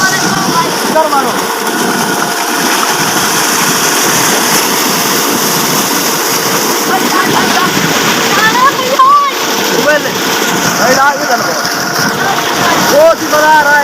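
People bathe and splash in water on a hot day, a dense steady wash of splashing running throughout with shouting and talking voices on top.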